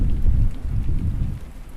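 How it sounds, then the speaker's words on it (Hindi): Steady heavy rain with low rumbling thunder at night around a hut, strong wind gusting, a continuous dense wash of rainfall under rolling thunder with no voices. "रात को झोपड़ी में तेज हवा चली, बारिश शुरू हुई, छत टपकने लगी।"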